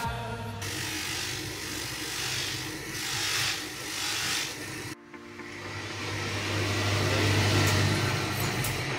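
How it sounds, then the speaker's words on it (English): Silver bracelet chain being polished on a machine: a steady, loud mechanical whirring and rubbing drone that briefly cuts out midway, then resumes with a stronger low hum. "And the next and almost the final step is polishing."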